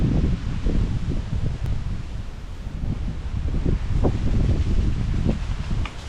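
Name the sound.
wind at the seaside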